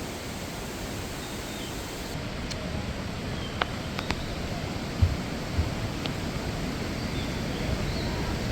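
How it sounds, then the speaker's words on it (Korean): Stream water rushes down from a waterfall in a mountain valley gorge at Juwangsan, a constant broad roar with a few faint clicks over it. "폭포에서 내려오는 계곡 물소리가 우렁차게 들립니다."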